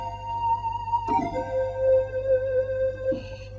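A Roland XP-80 synthesizer preset patch from bank B, number 077, built from three layered tones, plays sustained layered tones with a soft swell, steady and fairly quiet.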